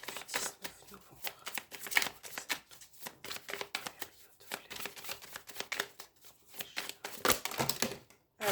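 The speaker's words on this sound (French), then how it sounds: "il y a beaucoup de cartes qui sont tombées" Playing cards slap, flutter and rustle in quick irregular bursts during a tarot-style reading, crisp close handling sounds that come and go as the cards fall and are gathered up.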